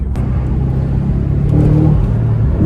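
A 450 hp V8 Audi RS4 pulls hard under acceleration, heard as a continuous deep engine rumble and drone that swells a little louder partway through. No voices are heard.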